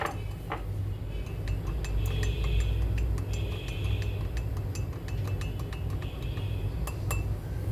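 Spoon stirring peppermint oil into serum inside a glass, a run of light, irregular clinks and taps of metal against glass over a low steady background hum.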